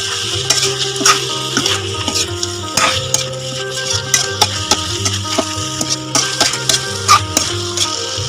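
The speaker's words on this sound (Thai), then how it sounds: "ผัดเนื้อปลาดุกกับเครื่องไปเรื่อยๆนะครับ" Catfish with curry paste is stir-fried in a pan, giving a close, steady sizzle broken by rhythmic scraping and knocking of a utensil against the pan, with no talking.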